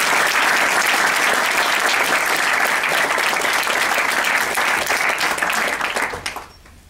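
An audience at a luncheon breaks into warm, sustained applause, a dense wash of clapping from many hands that holds steady for several seconds before quickly dying away.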